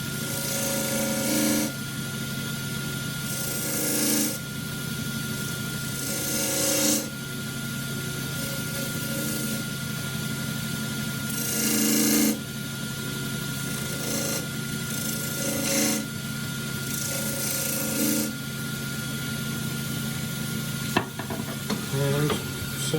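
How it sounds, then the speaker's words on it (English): A woodturning tool on a lathe arcs into spinning wood to cut small V grooves, giving a steady close rasping scrape with the motor's hum underneath and repeated louder bursts as each cut is made. "Little V grooves, arcing the tool into the wood."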